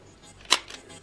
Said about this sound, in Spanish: Cargamos el obturador